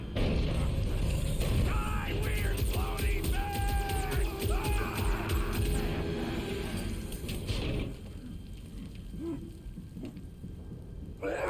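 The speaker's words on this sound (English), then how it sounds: "It's a swarm of old cleaner bots." A swarm of old cleaner bots in the Guardians of the Galaxy video game clatters and whirs with busy mechanical ratcheting and creaking, fairly loud and dense, then thins out toward the end.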